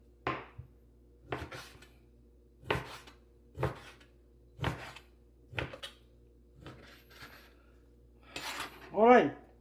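A knife slices chunks of beef on a cutting board in about eight sharp, evenly spaced chops close by with brief silences between, followed by a short spoken remark at the end.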